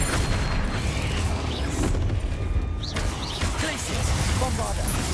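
Confringo spell explosions go off in the Hogwarts Legacy video game as a dense run of booms and crashing bursts that fills the whole stretch, with a voice talking over it.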